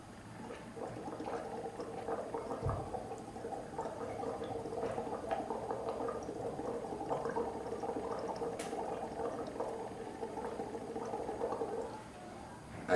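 Breath blown through a straw into lime water in a lab test bubbles steadily, a continuous close gurgling that holds at an even level for about eleven seconds and then stops.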